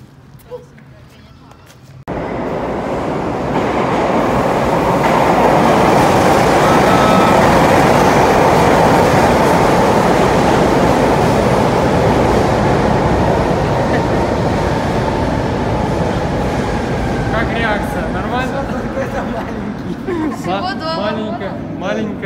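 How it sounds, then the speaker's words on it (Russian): A small metro train in Kryvyi Rih, Ukraine, rumbles past loudly with steady clattering wheels, building quickly then tapering as it moves away, with voices faintly underneath. "Маленькое метро."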